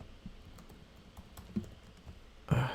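Soft, quiet typing on a computer keyboard, a scatter of light irregular key clicks with a slightly louder tap near the end.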